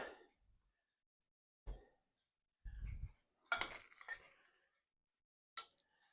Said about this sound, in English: And now I'm going to stir it.